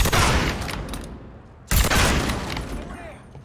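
Video game gunfire rolls out as two loud, close volleys, each a sharp crack followed by a long booming, echoing tail that slowly decays.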